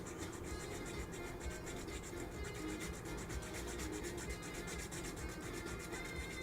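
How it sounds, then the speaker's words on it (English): Steady close scraping as a plastic carb mount on a Ford FD-100 scale model is shaved flat, a faint continuous rasp with a quick, even stroke rhythm throughout. "I'm going to shave this down, flatten out this carb mount, and put that blower on top."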